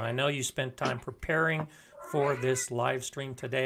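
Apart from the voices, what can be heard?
cat meowing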